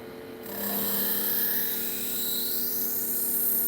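A belt grinder with a 320 grit CBN belt cuts a bevel into a custom knife blade, a loud steady high-pitched grinding whine that rises as the blade meets the belt and holds close and continuous.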